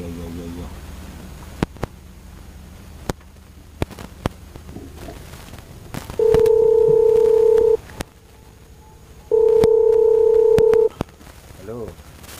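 A phone call goes out with two long, steady ringback tones separated by a pause, preceded by scattered clicks and soft background noise, with no talking over the ringing.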